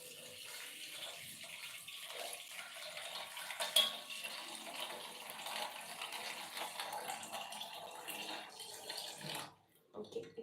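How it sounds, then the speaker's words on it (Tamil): Water pours into a bowl holding ice cubes, a continuous splashing stream up close that stops abruptly near the end. "ஐஸ் க்யூப்ஸ் ஆட் பண்ணிட்டு வாட்டர் எடுத்துக்கலாம்"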